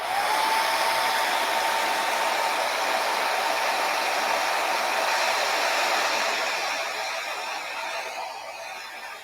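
A hair dryer blows steadily and loudly on freshly painted rocks, a continuous whirring hiss with a faint whine that holds for several seconds before easing slightly toward the end, with no one talking.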